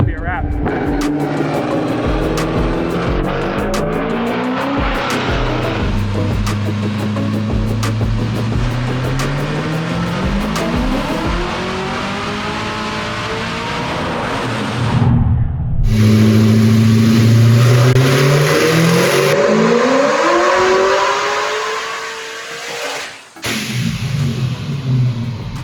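A car fitted with a Vortec supercharger runs on a dyno, its engine revving in long rising sweeps with a whining blower tone. It cuts off briefly, then climbs through a second loud pull.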